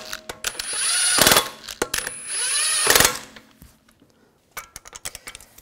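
Lug bolts are being threaded and snugged onto a front wheel hub of a 2004-2009 Audi A4 Quattro, with two long whirring runs of a power tool or ratchet, metallic clicks between them, then scattered light taps, close and loud.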